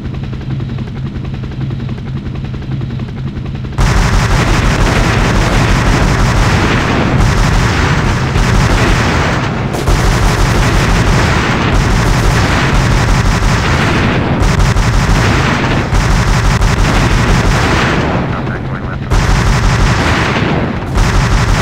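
In the Hell Copter video game, loud sustained missile and gunfire barrages roar over a helicopter drone, cutting in and out in long bursts with brief gaps.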